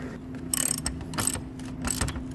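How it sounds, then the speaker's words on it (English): Hand wrench ratcheting the strut top nuts on a 2017–2019 Chevrolet Volt, three short bursts of clicking close by with brief pauses between, no talk, under a steady low garage hum. "Now it's time to completely tighten the top."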